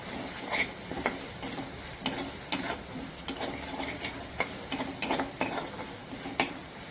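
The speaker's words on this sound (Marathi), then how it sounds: "अशा प्रकारे छान मसाला हे तेल सुटेपर्यंत आपण भाजून घेऊया" Masala fries in oil for a ridge gourd curry, a steady close sizzle broken by regular scraping strokes of a spatula stirring the pan.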